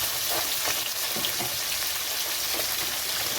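Tengra fish frying in hot oil on its second side, a continuous hissing sizzle dotted with small spattering pops, close and steady with no talking.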